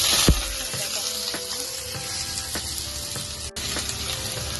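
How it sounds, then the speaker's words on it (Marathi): Finely chopped onions with curry leaves frying in hot oil, a continuous bright sizzle with scattered clicks and scrapes of stirring, close and fairly loud, no talking. "कांदा तेलामध्ये व्यवस्थित भाजून घ्यायचा आहे गोल्डन ब्राऊन येईल"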